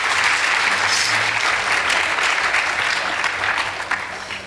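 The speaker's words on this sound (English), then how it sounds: "Please give both teams a round of applause." Audience applause fills a debate hall for two school teams, Bahati Girls and Annester Victory Boys, after a tied result; dense, steady clapping from a large crowd carries on loud and unbroken, fading slightly near the end.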